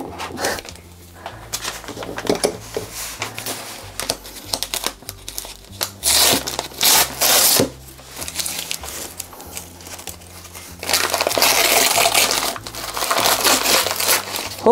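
Gift wrapping paper crumples and tears in bursts as a present is unwrapped close by, with loud crinkling flurries alternating with quieter handling and a sustained rustling stretch near the end.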